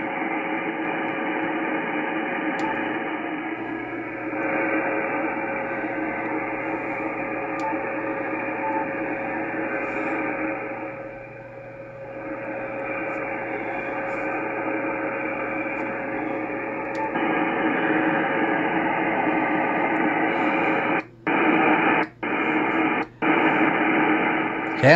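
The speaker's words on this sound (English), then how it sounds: "where it's really noisy at is 60 meters." Steady hissing ham radio static on the 60-meter band, heard on a Yaesu FTDX101MP, with a low hum droning throughout, briefly dipping, then louder near the end with a few abrupt cutouts.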